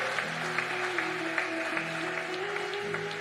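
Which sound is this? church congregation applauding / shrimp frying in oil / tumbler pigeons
church congregation applauding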